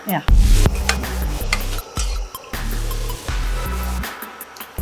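Rava bajji fritters fry in hot oil as a utensil stirs and scrapes the pan, giving a steady close sizzle broken by sharp clinks and knocks, with no voices.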